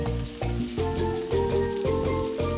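A seasoned grouper fillet frying in a pan of olive oil, giving a steady, close, crackling sizzle that runs without a break.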